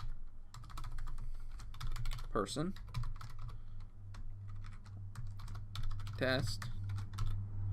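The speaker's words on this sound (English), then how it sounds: "my typing is terrible today" Rapid clicking keystrokes on a computer keyboard rattle steadily close to the mic, with someone speaking briefly over the typing and a low electrical hum beneath.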